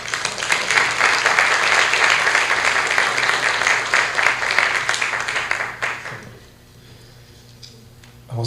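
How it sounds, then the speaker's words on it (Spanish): Seminar audience at a criminal procedure law event giving warm applause, dense clapping for about six seconds that fades out into a quiet room with faint shuffling at the end. "con un fuerte voto de aplausos"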